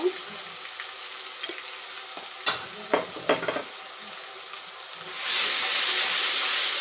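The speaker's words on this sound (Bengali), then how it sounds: "মশলাটি কষিয়ে নেব ভালো করে" Spice paste with salt and turmeric sizzling as it is stir-fried in a pan for a Bengali chicken curry with potatoes and homemade yogurt; steady frying hiss punctuated by spatula scrapes and taps, then swelling into a louder, hotter sizzle.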